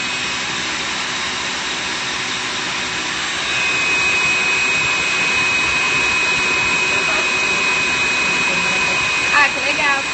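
An electric mixer whipping egg whites to stiff peaks for a chocolate mousse: a steady, whining motor drone that grows a little louder partway through and stays constant throughout.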